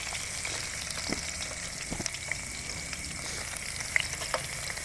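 Chopped onions fry in a home kitchen pan, a steady close hiss of oil with small crackles and a few sharp pops throughout, no talking.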